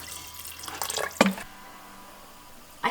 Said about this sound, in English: Putting in the water, just enough